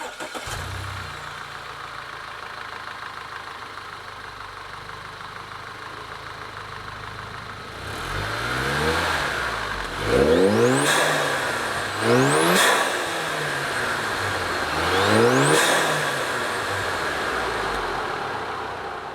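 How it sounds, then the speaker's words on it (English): Audi Allroad with an aftermarket intake and Stage 1 tune revving: a low idle gives way to several sharp, loud revs, each rising and falling, with intake suction and quick blow-off valve hisses as the throttle closes. "It gets a little bit more of like the suction sound, and you get a little bit of a psh when the blow-off valve goes off"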